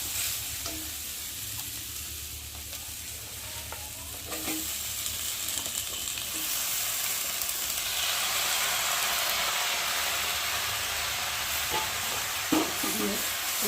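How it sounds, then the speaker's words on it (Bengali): Vegetables for a Malabar spinach dish frying with spices in a pan, a steady broad sizzle that grows louder and hissier midway, with occasional stirring scrapes, close by and without talk. "সবজিটাকে ভালো করে মশলার সাথে ভেজে নেব"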